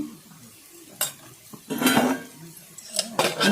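Peanut chutney with turmeric is stirred in a pan, with close scraping and clinking of a utensil against the metal in a few short bursts over a soft sizzle.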